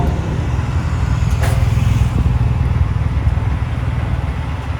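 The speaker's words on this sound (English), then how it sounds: "Uh-oh, here comes a bike." A motorcycle passing on a road beside a parked truck, a loud steady engine drone with a brief rising sweep as it goes by, no talk.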